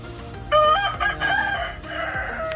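A rooster crows loudly and nearby in a backyard mini farm of chickens raised for breeding, with some clucking from the flock around it.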